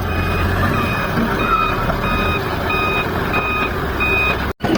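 Truck reversing at a road construction site beside a playground, evenly spaced loud beeps repeating over low engine rumble, with a brief dropout near the end.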